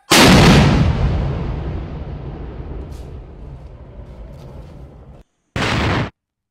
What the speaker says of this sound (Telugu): బాంబుల శబ్దాలు, తుపాకుల మోతలతో కర్రెగుట్ట దద్దరిల్లుతోంది